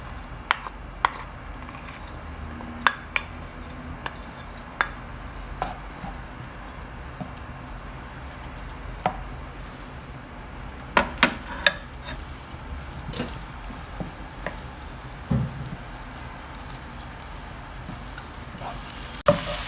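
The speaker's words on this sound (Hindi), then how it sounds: "लहसुन फ्राई होना स्टार्ट हो गया है।" Crushed garlic frying in oil for a Punjabi potato and fenugreek dish: a steady, soft sizzle broken by scattered sharp clicks and utensil taps, with no voices.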